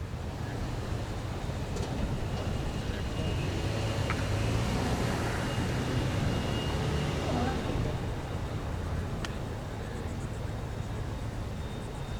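Florida East Coast Railway train 202 rolls past beside a river in the evening, a steady broad rumble of wheels and cars sustained throughout, moderately near, with a few faint higher tones above it.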